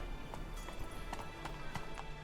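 Horse hooves clip-clop in The Witcher 3, a faint steady run of quick, evenly spaced hoofbeats over a low background hum.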